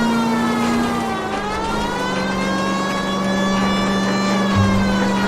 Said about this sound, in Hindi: अब सायरन बजाने का टाइम आया है।